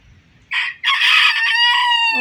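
A rooster crows loudly and close by, one full cock-a-doodle-doo rising and then holding its drawn-out final note.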